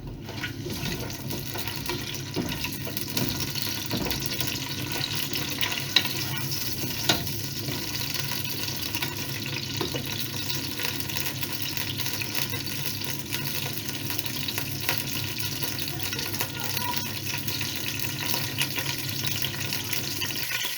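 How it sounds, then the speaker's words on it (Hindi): Boiled mutton frying in hot oil for aloo gosht, a continuous moderate sizzle with occasional light clatters and watery crackle, steady throughout and without speech. "हम यहाँ पे इस गोश्त को थोड़ा सा 2-1 सेकंड के लिए क्या करेंगे, भूनेंगे।"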